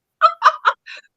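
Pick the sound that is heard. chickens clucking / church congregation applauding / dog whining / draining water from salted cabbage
chickens clucking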